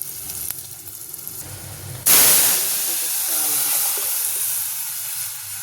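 Crushed garlic dropped into hot tempering oil for a tamarind pacchi pulusu, bursting into a loud, steady sizzle that starts abruptly and keeps hissing, with a soft voice in the background before it.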